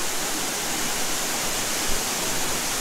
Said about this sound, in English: Any chance you get to walk behind a waterfall is a good time.